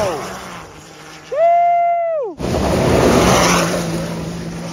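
A turbocharged Can-Am Maverick R UTV drifts through sand dunes, its engine note rising into a loud, sustained whine that cuts off abruptly, then roaring back amid wind and sand noise, with excited voices nearby.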